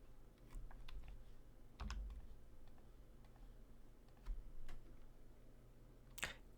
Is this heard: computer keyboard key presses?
yes